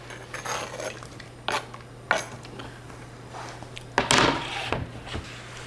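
Potatoes being moved into a cooking pot, heard as a few irregular clunks and scraping knocks of utensils and pan close by, with a low hum underneath.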